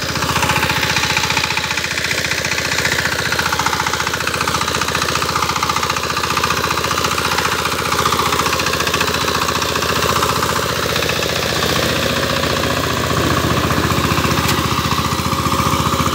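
A Sifang 25HP diesel power tiller with 28 blades runs in a farm field, its engine clattering in a loud, steady, close drone that never lets up.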